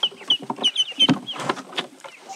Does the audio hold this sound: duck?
yes